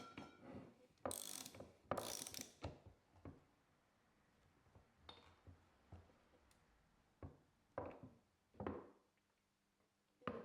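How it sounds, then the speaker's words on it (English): A RockShox Pike DJ fork top cap is tightened with a ratchet wrench, giving quiet, intermittent clicking bursts at irregular intervals, some sharp and loud, with faint pauses between. "Now we grease the top cap and reinstall it, tightening it to about 28 Newton meters."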